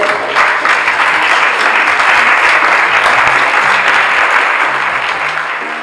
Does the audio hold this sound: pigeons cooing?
no